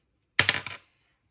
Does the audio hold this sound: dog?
no